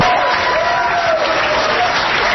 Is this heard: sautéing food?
no